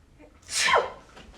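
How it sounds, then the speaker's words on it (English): A single loud, close sneeze aimed at the back of someone's head as a prank during a massage, a sharp breathy burst lasting about half a second over a quiet background. "Sneezed on the back of my head?"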